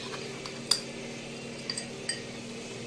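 A spoon clinks against a pot while custard powder is stirred into milk, a few sharp metallic taps spaced apart over a quiet, low background hum.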